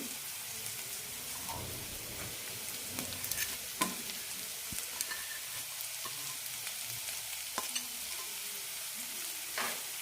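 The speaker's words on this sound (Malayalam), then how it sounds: "സവാള ഒരു മിനിറ്റ് നന്നായി വഴറ്റിയെടുക്കാം അതിനുശേഷം പച്ചക്കറികൾ ഇടാം" Chopped onion and mixed vegetables sauté in a pan for a ragi aval upma, giving a steady soft sizzle with scattered scraping and stirring ticks. No one speaks over the sizzle.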